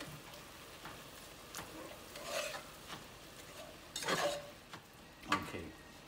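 Butter sizzling softly in a pan for a roux for biscuits and gravy, a low steady fry with occasional scrapes and clinks of a utensil against the pan.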